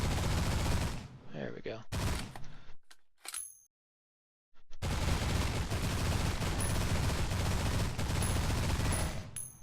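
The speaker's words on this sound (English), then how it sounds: "Let's see what machine gun does to rocks." Rapid machine-gun fire from a spaceship blasting rocks in the space game Destination Sol, dense sustained bursts with a short quiet gap, a voice speaking briefly.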